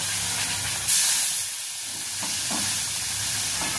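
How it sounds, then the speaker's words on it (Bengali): Milk pours into hot semolina in a pan and throws up a loud, broad, steady hiss and sizzle, with a brief sharper burst near the start. It stays close and continuous, with no talking. "এবার এর মধ্যে আমি দুধ দিয়ে দেবো।"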